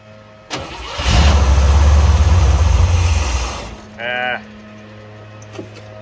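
Carbureted Chevrolet Corvette C3 cranks briefly, catches with a loud roar and runs roughly for about two and a half seconds before dying. A short voice follows in the quiet afterward.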